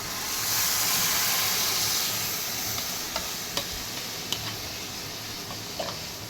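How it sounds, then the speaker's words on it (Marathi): Steady stirring of buttermilk kadhi with besan and coarse peanuts in a pan over full heat, a continuous hissing sizzle with a few soft scrapes and clicks of the spoon, close and moderately loud throughout. "आता ह्या कडीला डवळत राहायचं एकसारखं"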